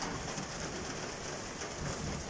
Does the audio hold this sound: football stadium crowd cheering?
no